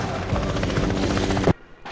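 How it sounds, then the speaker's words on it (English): A helicopter roars loudly amid dense, layered film-scene noise from the James Bond film A View to a Kill, then the sound cuts abruptly to near silence before a softer rumble returns. "A helicopter explodes and Bond gets away in a submarine that looks like an iceberg."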